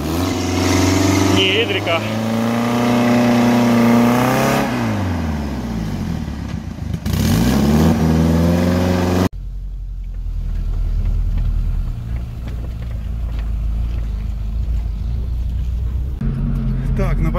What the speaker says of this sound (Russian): Кстати, звук мотора